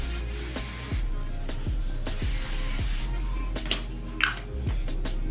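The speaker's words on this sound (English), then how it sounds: "This is just the humidity spray" Kenra No. 5 aerosol humidity hair spray hisses in a long continuous burst, close and fairly loud, with a few brief pauses and light handling noises.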